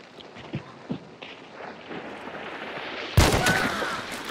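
Gunfire in a multiplayer bounty-hunt shooter game: faint thuds and steps early on, then one sudden loud shot near the end, followed by a ringing tail.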